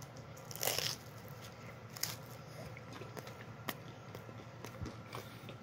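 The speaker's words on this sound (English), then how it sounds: "That's called crunch." A close, crunchy bite into a well-done uncured pepperoni pizza with a cauliflower crust, heard as a sharp crackle followed by faint chewing crunches at a quiet level.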